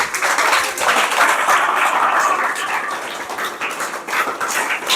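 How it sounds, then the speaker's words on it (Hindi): A group of students gives loud, sustained applause in a classroom for the weekly test topper Yashdeep, a dense burst of clapping close by. "हाँ जोरदार तालियां बताओ भैया के लिए"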